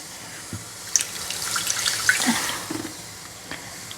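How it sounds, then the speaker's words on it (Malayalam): Water poured from a tap into a pot of simmering fenugreek seed curry in a home kitchen, a light trickling splash with a few small drips and clinks, fairly quiet and close. "ഇപ്പം ഇത്ര ഇത്ര കുറച്ചും കൂടെ വെള്ളം ഒഴിച്ചേക്കാമേ"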